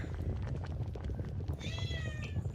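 A cat meows in a short rising cry near the end, heard over a steady low background rumble.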